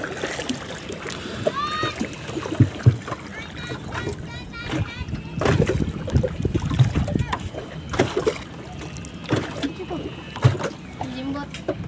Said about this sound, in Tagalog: Lakas mabugsay.